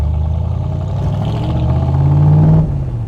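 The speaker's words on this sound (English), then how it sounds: "Any gear, any speed, the car will move." Big block AC Cobra replica, a Unique Autocraft Python, accelerating with a deep rumbling V8 note that swells and climbs in pitch, loud and close, before easing off near the end.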